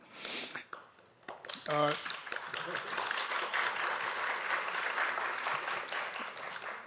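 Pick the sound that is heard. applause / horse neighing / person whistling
applause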